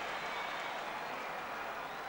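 A distant stadium crowd at a 1992 Derry v Meath Gaelic football semi-final roars and applauds after a score, a broad sustained wash of cheering.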